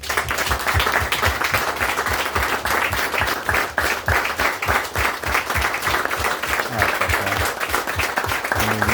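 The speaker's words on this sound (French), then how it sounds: "j'aimerais s'il vous plaît, pas une minute de silence, mais 30 secondes d'applaudissement" Sustained audience applause held in memory of a person named Jean-Philippe, a dense, steady wash of many hands clapping at an event, continuous and loud for the whole stretch with faint voices mixed in.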